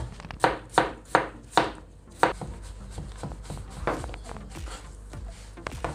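Sharp knife strikes chopping potatoes finely for fries on a cutting board, five crisp evenly spaced chops near the start, then softer, scattered cuts and scraping, close and clear with no voices.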